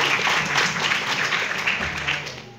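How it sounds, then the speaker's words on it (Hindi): An audience at a singing audition semi-final in Lucknow applauds loudly. Dense, continuous clapping holds steady throughout and tapers slightly at the end. "जोरदार तालियां आशुतोष पांडे जी के लिए"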